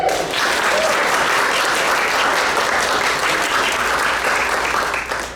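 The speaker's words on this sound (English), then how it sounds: "Can we give another round of applause for our Lions?" A school board meeting audience claps steadily for elementary school students, a loud, dense round of applause that holds for several seconds before tapering off at the end.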